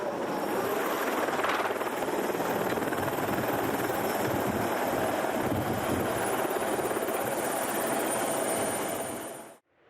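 A helicopter on a ship's helicopter deck, its rotor and engine roaring loudly and steadily throughout with broadband wash and a whining turbine tone, no talk.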